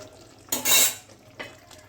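A lid goes onto a metal pot of cauliflower curry with beans and paneer, giving a short, close metallic clank and scrape. A smaller knock follows a moment later against a quiet kitchen background.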